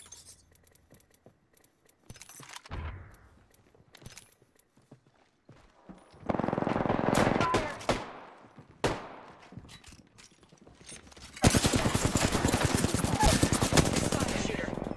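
Gunfire in the battle royale game Apex Legends: scattered single shots, then sustained rapid automatic bursts, loud and close, separated by short quiet gaps, with occasional talk.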